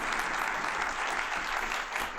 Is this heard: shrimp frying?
no